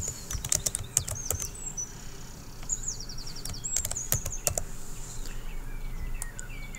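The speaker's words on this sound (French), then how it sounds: "Je tape mon texte au clavier." Text is typed on a computer keyboard in rapid clusters of sharp, close key clicks, with faint bird chirps in the background.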